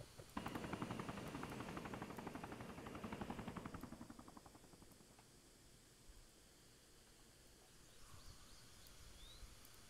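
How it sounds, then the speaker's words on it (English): A helicopter in a tactical military video game makes a loud, rapid rotor chop with broad whooshing noise for about four seconds. The sound then fades to a faint, distant hum. "Sounds like another helicopter inbound."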